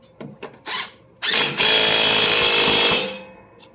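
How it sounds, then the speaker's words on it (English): A DeWalt DCF911 20-volt cordless impact wrench drives a 16 mm bolt on a Toro TimeCutter zero-turn mower. A few short trigger blips come first, then a loud, close burst of motor whir and hammering lasting about two seconds. "I always use an impact right here. I'm using my DCF 911, one of my favorite impacts, most useful impacts, the 20 volt."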